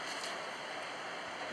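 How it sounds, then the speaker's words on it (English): Water from a burst pipe running down inside an apartment wall, heard as a steady, faint, broadband rushing hiss with no breaks, like a distant muffled waterfall, with no talking. "That's water still coming down the wall on the inside."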